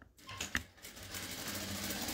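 Sewing machine stitching the first seam of a handmade doll, a steady fast mechanical whir building after a couple of brief starts, close and continuous with no talk.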